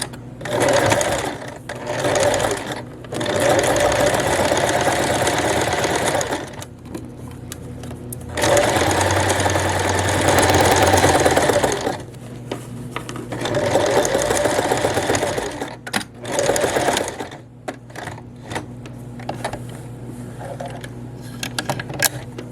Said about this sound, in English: now we can stitch where we pinned the waistband to the skirt, starting and ending with a back stitch.